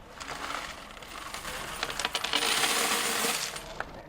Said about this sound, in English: The sound we love to hear, all the dimes,